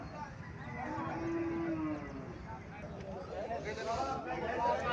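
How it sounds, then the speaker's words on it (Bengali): A cow of Indian Haryana breed lowing at a cattle market in Comilla, one drawn-out moo in the foreground while people talk nearby amid market chatter. "এখানে একটা গাভী দেখা যাইতেছে,"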